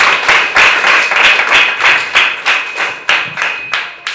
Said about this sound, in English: Let us give a deserving applause to these panelists for their presentation.